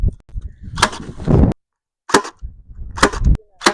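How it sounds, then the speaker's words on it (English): Ryobi cordless stapler driving 3/8 inch staples through weed mat into a wooden raised bed in a garden: several loud, close snapping shots in quick bursts, separated by brief silences. "I'm just going to staple it along the raised bed."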